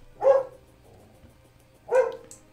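A pet dog indoors lets out two sharp, separate barks about a second and a half apart, moderately close, with quiet background between them.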